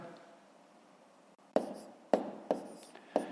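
A pen writes numbers by hand on paper: after a quiet start come four crisp, close strokes and taps, spaced unevenly, with no talking.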